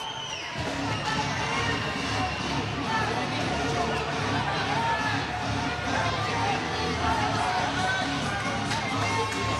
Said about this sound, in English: The Neshoba and Northbridge fans yelling, cheering their team on.